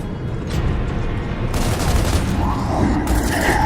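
Loud bursts of rapid gunfire in Gears of War 2 crackle over a rumbling background, with heavier volleys starting midway and continuing to the end.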